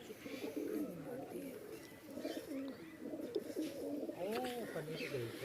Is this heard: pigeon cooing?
yes